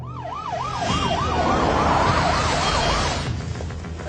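A loud wailing ambulance siren sweeping rapidly up and down, continuous and close, with road rumble underneath.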